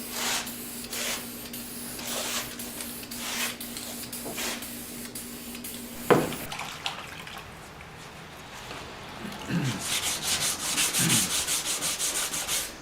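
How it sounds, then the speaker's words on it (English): Bondo filler is wet sanded by hand with wet-or-dry sandpaper, giving close, rhythmic rubbing strokes, some slow and regular, then quicker scrubbing passes. "So I'm sanding on this with a little bit of wet old dry sandpaper."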